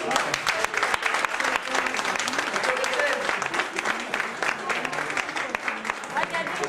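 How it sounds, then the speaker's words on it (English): A crowd gives a big, sustained round of applause at a gathering in Kosovo, a thick continuous clapping that runs for several seconds with voices blended in. "So a big round of applause."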